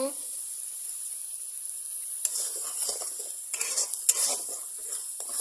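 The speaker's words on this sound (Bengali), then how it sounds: "এবার কড়াইতে মশলা করে নিচ্ছি ঝোল বানানোর জন্য।" Spices fry in a kadai for a curry, a soft sizzle broken by several rough scraping bursts as a spoon stirs and drags across the pan, close and fairly loud.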